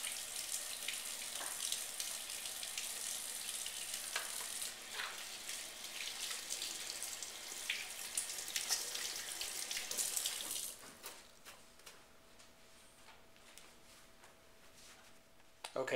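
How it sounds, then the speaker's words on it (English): Hands scrubbed with soap under a running bathroom tap, a steady close hiss of flowing water that drops away sharply near the end as the faucet is turned off, no talking. "first thing I always do is make sure and wash my hands"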